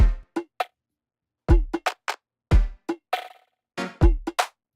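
A processed kick drum split into highs, mids and lows, heard as punchy, dry isolated hits in a syncopated beat pattern, each with a sharp attack and quick decay, alone with no talking.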